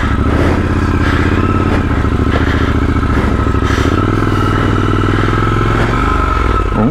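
A Triumph Scrambler 1200 XE motorcycle revs hard off-road on muddy grass, a loud close engine roar that climbs and drops as the rear wheel struggles for traction.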